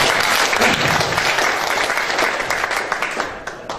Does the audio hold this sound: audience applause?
yes